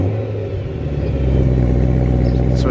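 A BMW E92 M3 with a 2-pipe exhaust mod and no decat idles close by with a deep, steady burble that swells slightly louder partway through.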